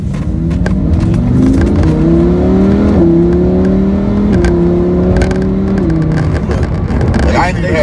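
A Lamborghini Huracan engine pulls hard under acceleration, its loud, steady drone rising in pitch through several smooth gear shifts, heard from inside the car for the whole stretch with no talking.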